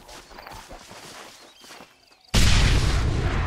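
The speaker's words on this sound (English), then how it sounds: "It's a nuclear missile." A nuclear missile explodes in a video game with a sudden loud boom, followed by a sustained roaring rumble that fills the rest of the moment after a quieter stretch of game noise.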